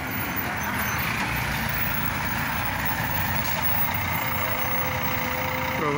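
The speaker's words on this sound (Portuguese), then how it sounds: "Esse ônibus aqui de viagem" A long-distance coach bus idles in traffic held up by a protest near a village fuel station, its low steady engine rumble continuous and close, with faint ambient street noise and no clear talk.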